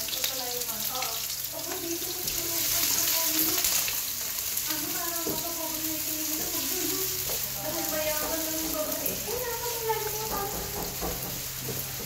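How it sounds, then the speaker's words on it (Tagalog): Garlic and onion sauté in a little oil for sopas, a steady bright sizzle running throughout with a voice-like tonal sound drifting in and out beneath it. "Igisa ang bawang. Isabay na ang sibuyas."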